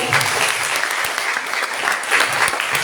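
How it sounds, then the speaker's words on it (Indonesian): A seminar audience claps enthusiastically, a dense, steady burst of applause filling the room, with faint voices mixed underneath. "Baik, boleh tepuk tangan yang meriah."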